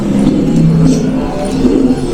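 Loud, close engine note from a Bentley car, steady and throaty with slight rises in pitch suggesting revving, heard alone without talk.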